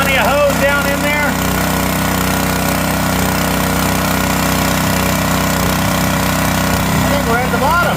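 Pump engine running steadily while pumping out an old water well: a loud, continuous rough mechanical drone with a pounding rhythm throughout.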